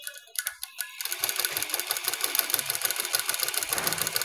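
A sewing machine runs steadily as it stitches the lining cloth of a chudidar side opening. After a few hesitant starts it settles into a fast, even mechanical whir that stays close and continuous, with no speech over it.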